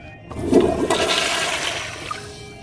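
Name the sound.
toilet flush sound effect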